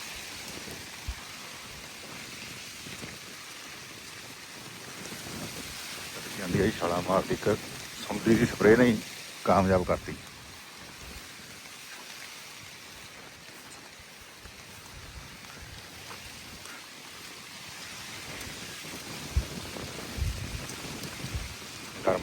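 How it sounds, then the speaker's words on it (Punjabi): Rain falls with wind over farm crops, a soft continuous patter in the background while someone talks through much of it. "ਹੁਣ ਹਵਾ ਵੀ ਚੱਲਦੀ ਮੀਂਹ ਪੈਂਦਾ"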